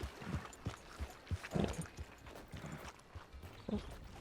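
Hooves of a horse in Red Dead Redemption 2 clip-clop at a walking pace, quiet and close, in an irregular rhythm with a few stronger hoof strikes.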